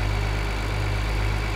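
Old tractor engine idling in Farming Simulator 2013, a steady low rumble with a constant throb that runs unbroken throughout and no one speaking.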